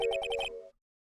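A phone ringtone in the Phoenix Wright: Ace Attorney video game plays as a quick pulsing electronic trill of about five bursts, then cuts off into silence.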